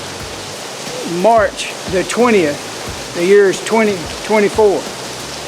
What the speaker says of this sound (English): Look at this, it's raining.